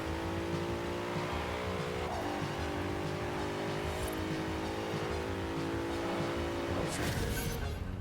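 A Bentley Bentayga engine in the video game Forza Horizon 4 revs high continuously at steady speed, with slight pitch shifts and faint tire squeals.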